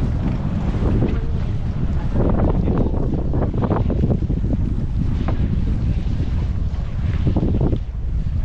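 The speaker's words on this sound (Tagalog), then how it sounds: "Lakas ng hangin eh." Strong wind on Balabac, Palawan buffets the microphone in a constant roaring rush, gusting throughout with a low rumble beneath.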